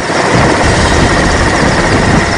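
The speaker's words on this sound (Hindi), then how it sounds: "तब प्रशासन ने सेना के हेलीकॉप्टर को भेजा।" An army helicopter engine during flood rescue operations in Surendranagar, Gujarat, a loud, steady roar with constant rotor and turbine noise throughout and no speech.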